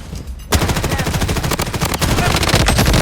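In the Blood Strike shooter game, rapid automatic gunfire erupts loud and close, a continuous chattering burst of shots that runs nearly the whole moment after a brief quieter lead-in.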